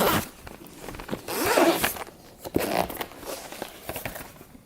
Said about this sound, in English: Open up the case.